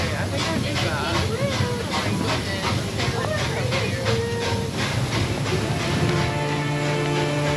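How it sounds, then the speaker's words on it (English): The Wild Kingdom Train, a park ride train at Lagoon, rolls along with hissing steam and rhythmic clickety-clack from the cars, loud and close, steady throughout. "there's something about the sound of a train that's very romantic and nostalgic and hopeful."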